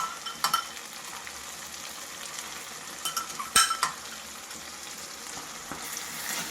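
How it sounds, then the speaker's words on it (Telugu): Onion paste fries in a pan while being stirred for a village-style brinjal curry, a continuous soft sizzle broken by scraping strokes and a few sharp utensil clinks against the pan. "ఉల్లిపాయ పేస్ట్ చేసి పచ్చివాసన పోయే వరకు వేయించాలి."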